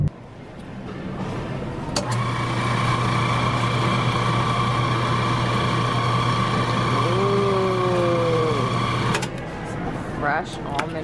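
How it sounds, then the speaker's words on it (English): A store nut grinder steadily hums for about seven seconds while grinding fresh peanut and almond butter, a constant motor drone at close range beneath faint background noise. "I got to grind my own peanut butter, and I got to grind my own almond butter"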